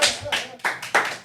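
A podcast audience breaks into brief applause, with short clapping bursts rising and falling close by over roughly a second.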